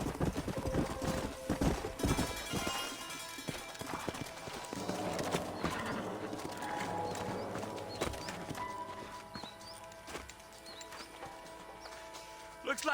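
Horses' hooves clip-clop on the ground in the remastered Red Dead Redemption game, a steady trotting rhythm close by, with an occasional whinny and ambient game sounds under quiet voices.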